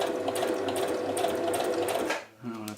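A home sewing machine stitches a straight seam on bra fabric, a steady close, loud motorized whir running continuously for about two seconds before stopping, followed by a brief softer mechanical hum.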